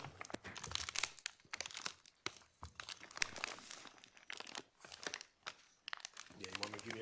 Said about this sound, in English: can you open up and look in that bag?